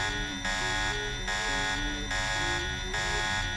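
A loud electronic alarm from the video game Deus Ex sounds in steady pulsing bursts of roughly a second each, a harsh buzzing tone with strong harmonics, repeating continuously without talk.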